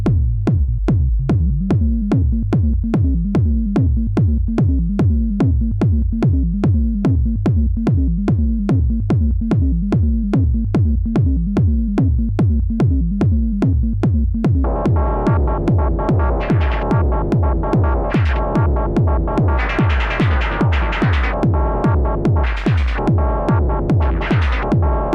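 Befaco Pony VCO analog oscillator on a hardware synthesizer setup, playing a loud, steady throbbing pulse pattern of repeated notes that turns brighter and buzzier about halfway through.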